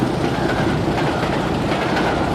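A train roars past close by, a loud, continuous rumble with rhythmic clattering of wheels over the rails.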